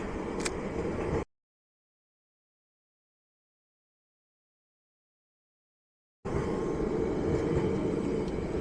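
A Melbourne tram rumbles past nearby in a steady low roar, cut off by a long stretch of total silence before the rumble resumes.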